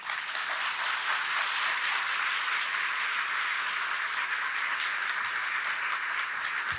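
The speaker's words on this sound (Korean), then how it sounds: "여러분 큰 박수로 맞이해 주시면" A church congregation at a retreat applauds as a pastor comes forward, a continuous, moderately distant patter of many hands clapping at a steady level.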